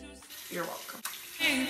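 Tap water runs into a bathroom sink during a morning face wash, a steady, close hiss that swells toward the end, with a faint voice at the start.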